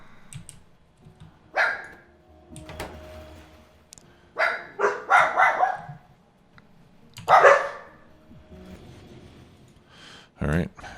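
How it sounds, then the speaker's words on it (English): A dog barks in bursts nearby, some barks clustered closely and others spaced out, with someone talking in between and keyboard typing faintly audible. "sorry for the dog alert there"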